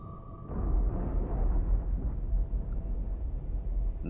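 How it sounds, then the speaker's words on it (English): A deep muffled boom of torpedoes exploding underwater in the submarine game Cold Waters rolls in, followed by a long low rumble that churns and slowly subsides. "that's the sound of torpedoes exploding in the water"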